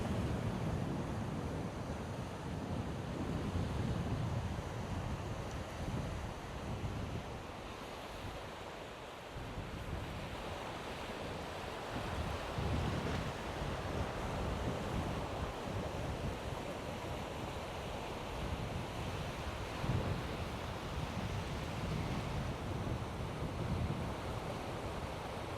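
Strong wind and crashing Atlantic surf on Essaouira beach, where kitesurfers ride. A continuous, loud roar with gusty wind buffeting the microphone runs throughout, and no voices are heard.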